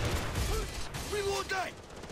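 Video game Far Cry 3 co-op gunfire crackles as a dense burst of shots under a steady noisy bed, while a voice talks over it.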